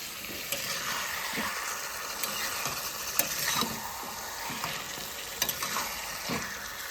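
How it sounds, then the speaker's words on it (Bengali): Goat meat frying in a pan, stirred with a spatula: steady sizzle with repeated scraping strokes and occasional clinks, close and moderately loud, no voices. "আজকে তো খাসি মাংস রান্না করছি"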